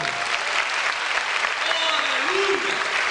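Steady, dense applause from a church congregation fills the space, with a voice calling out faintly over the clapping partway through.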